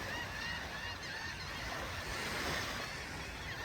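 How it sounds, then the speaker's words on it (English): A dense chorus of honking geese fills the air, many birds calling over one another continuously and fairly loud, with no pauses throughout. "Along with about 1 million noisy birds."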